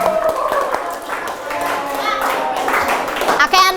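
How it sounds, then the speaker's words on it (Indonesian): Schoolchildren in a classroom clap together during a mathematics lesson: a dense, brisk patter of hands throughout, mixed with children's voices and chatter. "tepuk tangan dulu tuh buat kelas"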